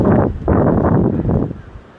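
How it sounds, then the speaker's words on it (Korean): Strong wind gusting across a mountain ridge on Duryunsan, roaring in loud buffeting bursts against the microphone, with a short lull between gusts before it eases off toward the end. "무섭게도 바람 부네."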